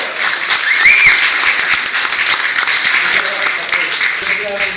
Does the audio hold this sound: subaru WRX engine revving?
no